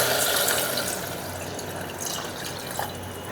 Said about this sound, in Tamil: ஒரு 1/2 லிட்டர் தண்ணி ஊற்றுறேன்.